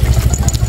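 A motorcycle engine idles close and loud, its steady low throbbing pulse running through the brief moment with a slight mechanical rattle.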